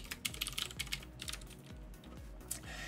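Someone types an email address and password on a computer keyboard, a quiet, close run of quick clicky keystrokes in uneven bursts with short pauses between them.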